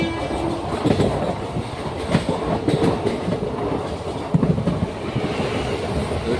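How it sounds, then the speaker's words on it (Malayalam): A train rushes past at close range near Sasthamcotta lake in Kerala, a loud continuous roar of rolling stock with rhythmic wheel clatter and rumbling bursts, steady throughout with no voices. "ട്രെയിൻ പോകുന്ന കേട്ടോ, നമ്മൾ ഒട്ടടുത്തൂടെ ഒരു ട്രെയിൻ പോകുന്നുണ്ട്."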